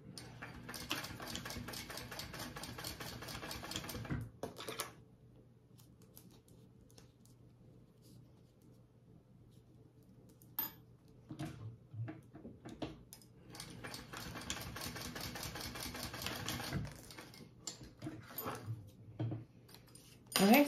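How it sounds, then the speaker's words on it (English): A sewing machine stitches a crossbody bag in two quick runs of rapid, even needle chatter, separated by a quieter pause with faint handling. "you just want to sew them shut."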